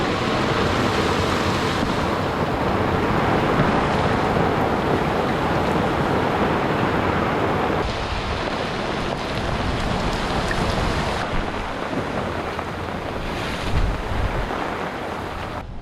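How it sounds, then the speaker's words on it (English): Wind gusting and broadband sea wash from waves on an Atlantic sailing crossing, a steady loud roar with no pauses that eases slightly partway through. "Wind's picking up again."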